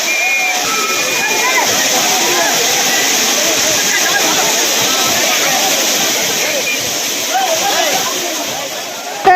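A loud, roaring waterfall at Courtallam pours steadily while tourists bathe beneath it. The dense, unbroken rush fills the whole stretch, and voices blend faintly into the spray.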